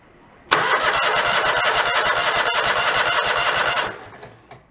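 A lawn mower engine being cranked, catching abruptly and running loud and steady for about three seconds before cutting out and dying away, with no talk.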